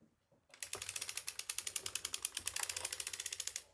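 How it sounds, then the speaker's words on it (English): A circular sock knitting machine is hand-cranked, its ratchet giving a fast, even train of sharp clicks up close for about three seconds after a brief silence. "Turn really slowly, and I want to make sure I'm going to turn it some more, 2 clicks down."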